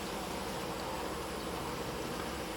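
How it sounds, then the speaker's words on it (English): Continuous hum of a crowd of honeybees inside an open hive under inspection, bees clustered together on new comb; an even, noisy drone with no talking. "tons of bees here."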